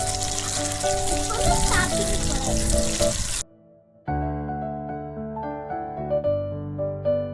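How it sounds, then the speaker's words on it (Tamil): Fish fries in hot oil with curry leaves in a kadai, a loud continuous sizzle and crackle that cuts out briefly, then returns with a musical tone running under it; no one speaks. "கடாயில எண்ணெய் ஊத்தி கருவேப்பிலை போட்டு மீனை போட்டு நல்லா பொரிச்சுக்கலாம்."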